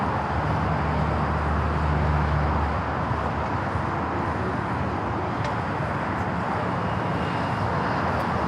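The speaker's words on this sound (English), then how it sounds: "That's a flight back to Tokyo Narita on that 777-300ER." A Boeing 777-300ER jet airliner at LAX produces a steady, loud, broadband roar with a low engine drone, heard continuously from a moderate distance at the airport.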